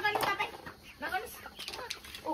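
Hens cluck in a coop in short, soft, irregular bursts at close range, with faint human voices nearby.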